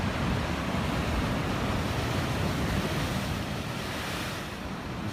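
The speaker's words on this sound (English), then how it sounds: "See the waves coming in." Ocean waves surge and wash onshore at Ocean Beach in San Diego, a steady, loud roar of surf with wind buffeting the microphone throughout, no voices present.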